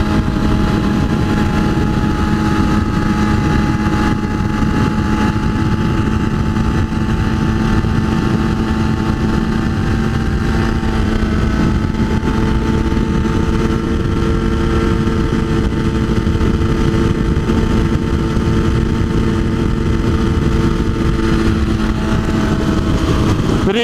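A motorcycle engine drones steadily and loudly throughout as the bike rides through a corner at 80, with constant wind and engine noise and no break.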